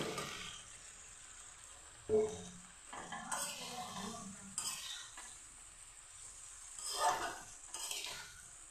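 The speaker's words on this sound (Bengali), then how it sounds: "মশলাটা আমার ভাজা হয়ে গেছে তেল ছাড়তে শুরু করেছে এখন আলু টমেটো দিয়ে দিচ্ছি" Potatoes and tomatoes fry in oil with a cooked spice masala in a Bengali home kitchen: a soft steady sizzle broken by several louder scrapes and clatters of stirring in the pan, with no talking.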